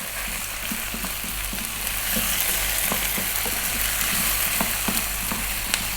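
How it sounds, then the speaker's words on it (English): Dried thyme and oregano frying in a hot pan for a vegan tomato, garlic and zucchini dish, a steady broadband sizzle with soft utensil scrapes and taps scattered through, close and continuous without talk. "I'm going to just give that a little mix for a few seconds"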